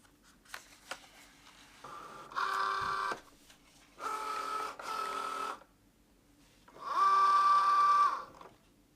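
A Cricut Joy cutting machine works through permanent smart vinyl in three separate motor runs, each a whirring buzz of about a second, with soft clicks and quiet gaps between them, heard close up with no talking.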